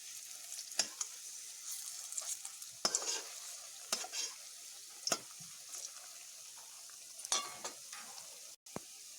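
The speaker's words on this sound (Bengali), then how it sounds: "এক পিঠ ভাজা হয়ে আসছে, আমি অন্য দিকটা উল্টে দেব।" Jackfruit pieces frying in oil in a pan, a soft steady sizzle punctuated by several clattering stirs and flips, close but fairly quiet with no voices.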